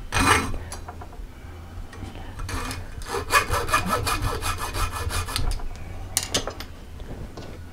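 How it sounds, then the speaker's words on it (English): A hacksaw drawn backwards through aluminum tubing makes a rapid, rasping scrape in repeated short strokes, close and fairly loud, with a few metallic clinks between the cuts. "don't try to cut pushing the hacksaw, but drag it backwards through the tubing"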